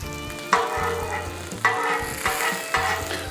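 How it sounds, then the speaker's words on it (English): Eggs fry on a breakfast-sandwich griddle or pan, a constant sizzle broken by three distinct knocks and scrapes as the eggs are turned and the yolks broken, with no talk. "We'll turn the eggs and we'll break the yolks"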